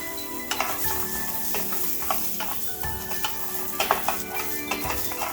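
Freshly chopped coconut roasts in a pan with a soft, steady sizzle, punctuated by repeated scraping and clinking as a spoon stirs it against the metal, close by with no talking.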